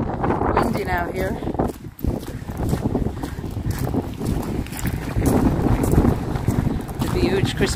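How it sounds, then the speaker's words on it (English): Strong wind buffets the microphone in the grounds of Kilkea Castle, a loud continuous roar with gusts that swell and fade, while a person talks over it. "It's very windy now here."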